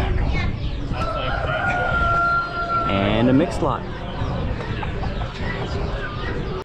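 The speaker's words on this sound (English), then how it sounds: "A couple more silky roosters" Silkie roosters crow at a busy animal auction, one long drawn-out crow standing out over a crowd and an auctioneer's continuous talk, with other fowl clucking around them.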